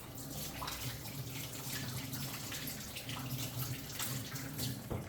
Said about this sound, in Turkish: Bir elimizi yıkayalım.